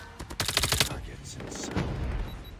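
A Type 19 gun fires a rapid burst in a video game, a loud string of sharp close-range shots lasting under a second, followed by quieter game noise.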